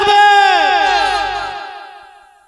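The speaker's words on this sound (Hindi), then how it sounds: "नारा लगा नारा तकबीर नारा तकबीर" Large crowd at a Muslim religious gathering roaring the Takbir response in unison, a loud sustained shout that swells at once and then fades away over a couple of seconds.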